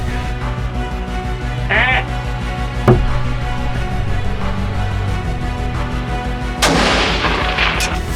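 A single muffled gunshot at a buck during an Ohio deer hunt pops out of steady outdoor background noise, followed later by a broader burst of sound.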